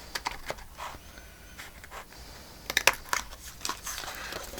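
Cardboard being cut out for a small box, a series of close, quiet crunching and crinkling cuts with a few sharper snips partway through, no talk.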